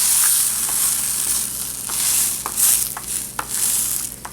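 Shrimp quesadilla sizzling steadily in a hot skillet, a continuous crackling fry with a few sharper pops and spatula scrapes, close and alone with no talking.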